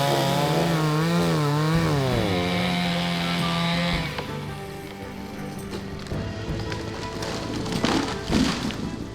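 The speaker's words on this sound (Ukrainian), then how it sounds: "Запускаємо бензопилу і, відступивши близько метра від землі, спилюємо дерево" A petrol chainsaw engine revs loudly with a rising and falling pitch, then settles into a rough, steady cutting drone as it bites through a dry pine tree about a metre above the ground, close by.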